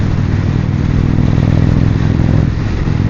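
A Harley-Davidson Road King Special or Indian Springfield Darkhorse motorcycle rides at speed, its engine a loud, steady rumble mixed with rushing wind, close and continuous with no talk.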